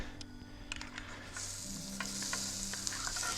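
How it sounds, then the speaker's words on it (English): Clatter of utensils gives way to a broad, steady sizzle as wet meat hits a hot cast iron pan on a gas stove, the frying hiss building and continuing up close. "You want to hear that instant sizzle when the wet meat first hits."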